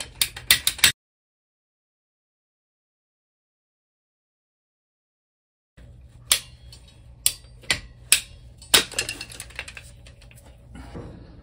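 A tool cutting PEX plastic supply pipe for a tee fitting during a DIY whole-house repipe through an attic: sharp clicks and snaps in a quick cluster, a long silent stretch, then more spaced cutting clicks.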